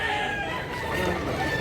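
A rooster crowing at a chicken market in North Cebu, Consolacion, one loud, sustained call close by amid a busy backdrop of other fowl and ambient noise.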